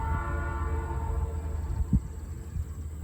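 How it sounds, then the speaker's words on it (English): A long freight train labors uphill in the distance in Iowa, a low steady engine rumble with a faint horn-like tone, no voices. "we got the train coming up the hill right now"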